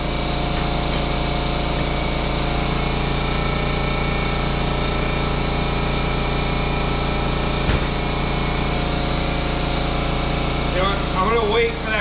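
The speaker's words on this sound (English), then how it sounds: "I'm going to wait for that compressor to kick off" A small air compressor runs steadily throughout, a constant close motor drone with a brief thump near the end, set in a garage during a Jeep JK tire change with 285/70R17 tires.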